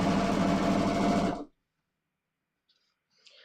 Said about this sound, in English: all I'm doing is sewing the twill tape onto the left fly piece